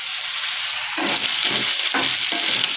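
Matki sprouts being stirred with ginger garlic paste in a hot frying pan, a loud steady sizzle with repeated scraping stir strokes roughly every second, close up and without talk.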